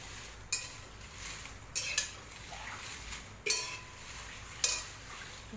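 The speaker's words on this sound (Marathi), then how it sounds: "आता आपण हे कमालपत्र छान सोनेरी रंग येईपर्यंत भाजून घेणार आहोत" Dry-roasting kamalpatra for garam masala in a pan until golden, with a faint background hiss and four or five sharp metallic spatula scrapes against the pan, spaced irregularly.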